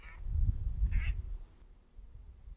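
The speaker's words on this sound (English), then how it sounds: "That's the same duck." The same duck quacks twice in loud, raspy bursts about half a second apart close to the microphone, then goes quiet against a low background.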